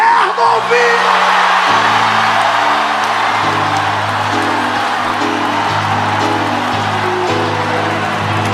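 A church congregation at a Pentecostal-style service shouts out loudly together, a dense sustained roar of many voices with whoops, over steady organ or keyboard chords throughout.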